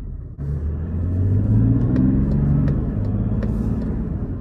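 A car engine rated at 254 horsepower and 550 Nm of torque rumbles deeply and swells as the car accelerates, the rising drone heard from inside the cabin, loud and steady.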